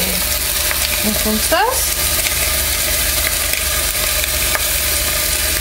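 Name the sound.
sliced onions frying in a pan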